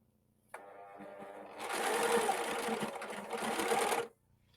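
A Husqvarna Viking S100 sewing machine stitches piping cord into fabric using a piping foot, starting with a brief whir and then running steadily and loudly up close for a few seconds before stopping.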